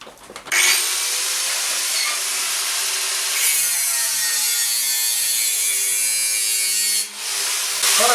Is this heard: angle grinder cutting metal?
yes